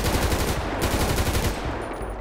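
Rapid automatic gunfire in GTA 5 crackles in a loud, dense burst of shots for about a second and a half, then trails off into a brief rumble.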